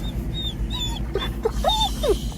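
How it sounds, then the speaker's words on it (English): A dog whimpers and whines in high, thin cries over a constant low rumble of a moving vehicle. "Hey, calm down, dog, calm down."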